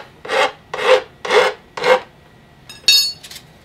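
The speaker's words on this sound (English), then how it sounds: "Take my piece of sandpaper and just kind of smooth it down a little bit." Sandpaper rasps against the rounded edges of a wooden tent pole, four even strokes close up, followed by a sharper scrape.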